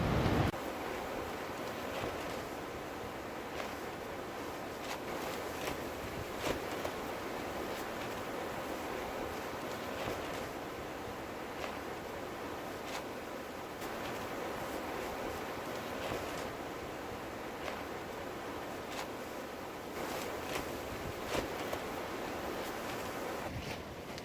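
Strong, dangerous wind blows across a campsite at Hanging Rock in the Blue Mountains as a constant roaring rush, steady and enveloping, with occasional gusty surges and buffeting against the microphone.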